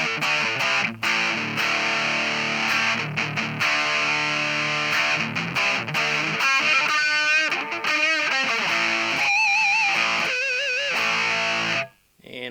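A dry tone with no reverb plays through a pair of 1-inch speakers, a bright, slightly distorted sustained sound with a few shifting and wavering notes and brief breaks, ending in a short dip.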